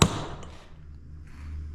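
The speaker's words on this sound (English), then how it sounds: "Take a chisel and a hammer, and just start" A single sharp metallic strike of a hammer on a chisel while working on a John Deere 787 strip till, followed by a fading ring and quiet room noise.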